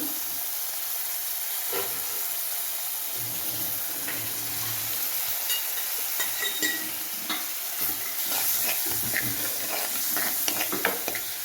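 Curry leaves hit hot oil while making a buttermilk curry, giving a steady close sizzle that grows busier with sharp spitting crackles toward the end.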